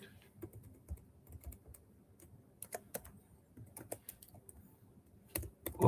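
Someone types on a computer keyboard while taking notes, soft irregular key clicks close by in quick clusters with short pauses, alone and without talk.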